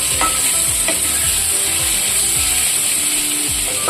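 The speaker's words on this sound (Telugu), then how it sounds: "ఈ మూడు ఉల్లిపాయలు వేసుకుని ఎర్రగా వేగేదాకా వేయించుకోవాలండి" Three sliced onions fry in a pan until reddish, with a constant bright sizzle under repeated rhythmic scraping strokes of a spatula stirring across the pan surface.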